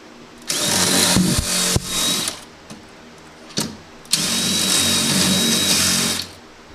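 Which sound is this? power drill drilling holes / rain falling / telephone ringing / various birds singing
power drill drilling holes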